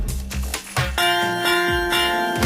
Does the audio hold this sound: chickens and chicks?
no